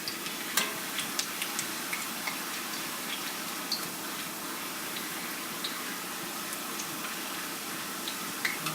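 Tortillas frying in a pan of hot oil, a steady bright sizzle with small crackles and pops scattered throughout, close and continuous with no talking.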